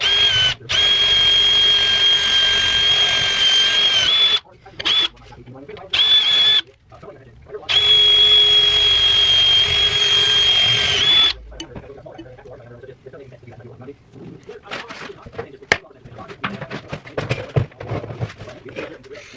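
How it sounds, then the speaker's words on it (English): Power drill boring holes for a bracket during parts installation on an H22-swapped Honda Civic, with long sustained whirring runs broken by short pauses, then stopping; quieter handling noises and clatter follow. "go ahead and drill these out"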